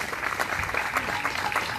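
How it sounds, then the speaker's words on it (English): An audience at a raceway hall of fame induction ceremony gives a dense, steady round of applause to an inductee, moderately loud and heard alone throughout. "nice round of applause for 2018 inductee Neil Paul out of Elkins, West Virginia."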